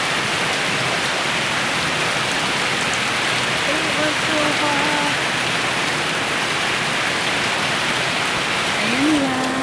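Heavy rain pouring steadily on a hot day, a loud dense wash of falling water lasting throughout, with faint voices in the background.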